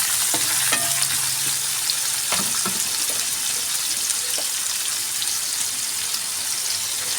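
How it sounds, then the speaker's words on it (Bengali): Chopped onion frying in oil, a close, even sizzle with occasional clinks and scrapes of a spoon stirring the pan. "পেঁয়াজটাকে আমি একটু ভালো করে ভেজে নেব"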